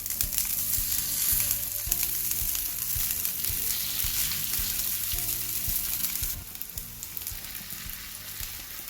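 Chicken kabab sticks fry in a pan, a steady, close sizzle with occasional stirring and shifting, easing slightly near the end, with no talk.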